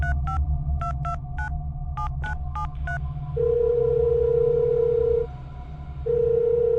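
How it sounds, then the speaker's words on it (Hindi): A landline telephone is dialed with a quick series of short beeping tones, followed by long steady ringback tones with a pause between, heard close and clear over a low hum. "अमन फोन उठाकर अपने दोस्त"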